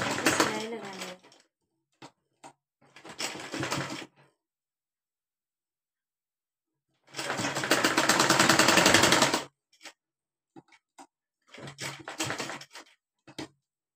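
A sewing machine stitches the folded fabric edges of a baby cap, running close by in several bursts of uneven length, the longest a steady whir of about two seconds, separated by quiet pauses.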